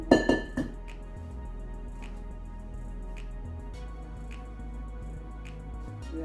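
A spatula smoothing spice pound cake batter in a metal pan, opening with a few quick clinks and scrapes, then repeated faint taps and soft scraping over a low steady hum.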